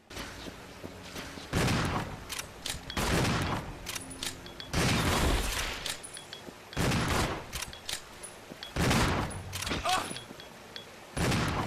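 Shotgun blasts from Resident Evil 0 fired one after another, about six loud booming shots spaced roughly a second or two apart, each with a long decaying tail and some faint speech between.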